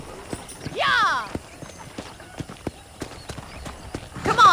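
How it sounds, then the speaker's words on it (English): A horse in Red Dead Redemption clip-clops along at a steady pace with repeated, evenly spaced hoofbeats, broken by a loud whinny near the start and another at the end, with faint speech underneath. "let's see if you can still ride a horse"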